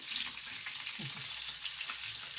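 Breaded chicken cutlets (pane) fry in hot oil with a steady, close, even sizzle that holds for the whole stretch without pause.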